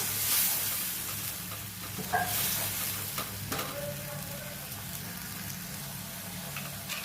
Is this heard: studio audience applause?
no